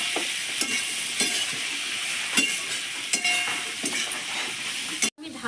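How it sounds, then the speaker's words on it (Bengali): Taro stolons seasoned with salt, turmeric and chilli powder sizzle and crackle in a pan, with a few scraping stirs and a steady frying hiss throughout. "লতিটা আমি ভাজা ভাজা করে নেব"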